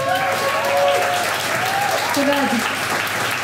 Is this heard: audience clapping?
yes